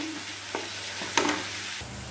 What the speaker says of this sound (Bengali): এবারও মশলাগুলো ভালো করে কষিয়ে নেবে